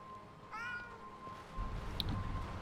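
A single clear meow from a cat in a cat-life video game, mid-length and rising then falling, over low game ambience, followed by a few soft thumps.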